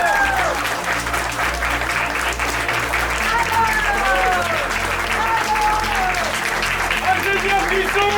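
An audience at a film shoot's making-of gathering gives the technical crew loud, sustained applause, with some voices and cheers mixed into the clapping throughout.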